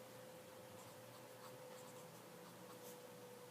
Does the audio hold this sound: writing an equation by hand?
yes